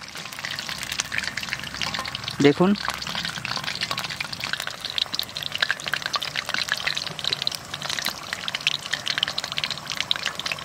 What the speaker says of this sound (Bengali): বাকিটা আমরা এবার এক এক করে ভেজে নেব